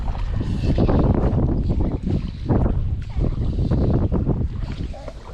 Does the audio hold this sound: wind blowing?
yes